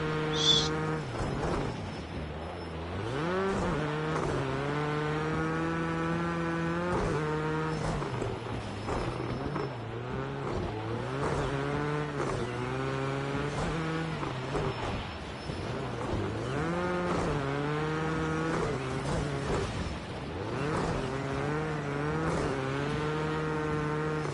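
A rally car sliding sideways through a race in Rally Fighters, its engine droning loud and close for the whole stretch, pitch repeatedly climbing and dropping with gear shifts and throttle changes, some scrubbing under the engine tone.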